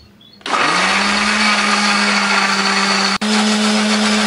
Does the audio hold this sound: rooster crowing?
no